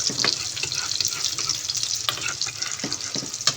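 Eggplant omelette (tortang talong) fries in a pan with a steady, close sizzle, broken by a few brief scraping stirs and taps.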